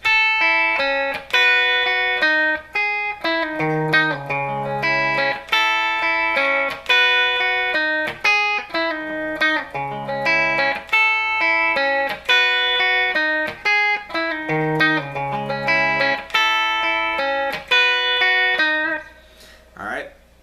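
An electric guitar plays a repeating melodic riff of bright picked notes, steady and clear, looping for about twenty seconds before fading at the end.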